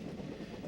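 A long freight train of 111 cars rolling through Berea, a dense, continuous rumble with faint rhythmic clatter, heard steadily and fairly close.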